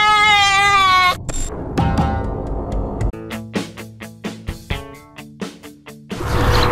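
Goat in a barn bleating in distress, a loud wavering cry at the start followed by a series of sharp rhythmic bursts of noise and movement, close by and without speech.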